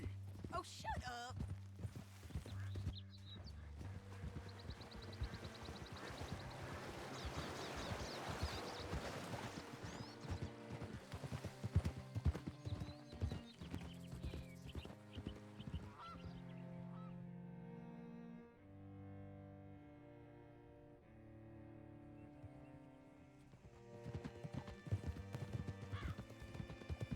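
Horse hooves clip-clop during a ride in Red Dead Redemption 2, with a horse whinnying, talking voices and other sounds layered around the rhythmic hoofbeats.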